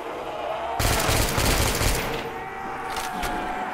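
Automatic gunfire in a custom zombie map video game: a loud burst of rapid shots, a pause, then a shorter burst, heard alone without talk.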